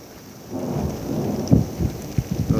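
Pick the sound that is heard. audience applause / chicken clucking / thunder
thunder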